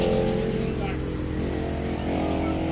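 A Yamaha NMAX scooter fitted with a new exhaust pipe idles steadily with a low, even engine drone, and a voice talks over it throughout.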